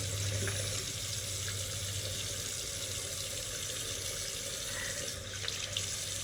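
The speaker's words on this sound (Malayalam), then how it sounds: "ഞാൻ വിചാരിച്ചു വെള്ളം ഒഴിച്ച് കഴുകി കളയാമെന്ന്" Tap water running steadily into a sink while being used to rinse something off, a continuous close splashing flow at constant strength throughout, with no voices.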